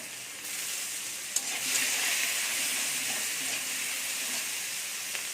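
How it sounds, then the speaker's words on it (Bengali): Onions frying with cloves and a bay leaf in a pan, an even, moderately quiet sizzle lasting throughout, with a light tap or two of stirring and no voices. "এবারে পেঁয়াজ তো দেখুন হালকা ভাজা হয়ে এসেছে"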